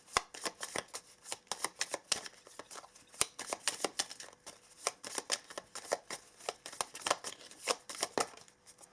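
Whispering Woods mini tarot cards are shuffled by hand in a rapid, continuous run of crisp riffling flicks and soft slaps, close and fairly quiet, with no voices.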